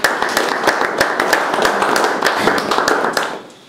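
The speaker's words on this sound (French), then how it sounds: "Est-ce qu'on peut s'applaudir?" A crowd applauds at a presentation of a football club's season record, a steady burst of close, dense clapping with sharp individual claps that fades out at the end.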